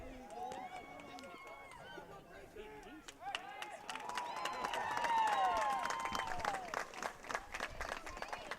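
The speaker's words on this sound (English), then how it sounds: "Got a golf clap from the 10th fairway to our left." Scattered polite applause from spectators on a golf course fairway near a high school baseball game, faint and distant, rising briefly beneath a commentator's talk and crowd murmur.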